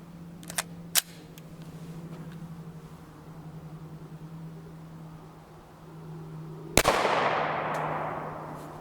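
A single 5.7x28mm 43-grain copper solid round fired into an armor panel, a sharp loud crack near the end followed by a decaying hiss, after a low steady hum and a couple of earlier clicks.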